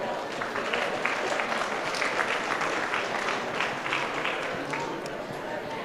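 Steady, dense clapping from the crowd at a 4-H district show in St. Paul, Alberta, sustained for about six seconds with a faint murmur of voices beneath.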